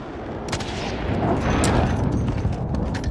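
Gunfire from the Call of Duty Warzone video game, a dense burst of loud shots and booms running continuously over about three seconds with no talk.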